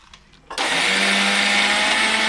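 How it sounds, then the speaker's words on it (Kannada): A mixer grinder starts abruptly and runs loud and steady, grinding salt, green chillies and water into a smooth paste, after a brief quiet lead-in with small clicks. "ಇದನ್ನೀಗ ನಾವು ನೈಸಾಗಿ ಮಿಕ್ಸಿ ಮಾಡ್ಕೋಬೇಕು."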